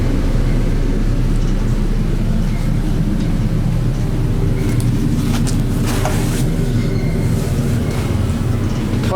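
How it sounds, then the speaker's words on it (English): A loud fan in the machine room of vintage Westinghouse traction elevators in an office building in Durham, NC, gives a constant low roaring drone with steady mechanical rumble and a few faint clanks on top. "This fan in here is even more louder than the other one."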